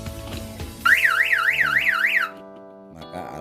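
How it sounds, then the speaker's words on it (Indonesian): Power-failure alarm in a raised closed-house chicken barn: a loud, warbling siren that rises and falls rapidly for over a second, then cuts off, with machinery hum around it. "ini juga ada alarm untuk pemberitahuan ketika mati lampu"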